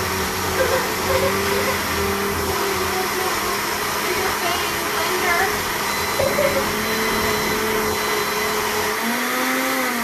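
A kitchen blender motor runs steadily with a loud, continuous whir as it churns Icee into a slushy, the pitch shifting slightly near the end as the load changes.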